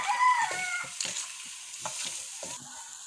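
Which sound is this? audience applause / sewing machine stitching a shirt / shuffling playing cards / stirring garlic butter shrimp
stirring garlic butter shrimp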